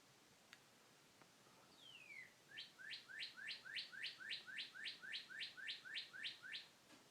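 A single bird gives a downward-sweeping call, then a long run of about fifteen rapid, evenly spaced sharp chirps, clear and close against a quiet background.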